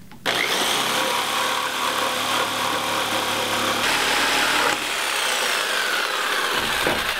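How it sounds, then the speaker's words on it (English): A power saw, likely a scroll or jigsaw, cuts out the center of a wooden logo along a drilled starting hole, giving a loud, continuous buzzing rasp that shifts slightly in pitch before stopping abruptly near the end. "I'm going to cut out the middle here using this same spot that was drilled into."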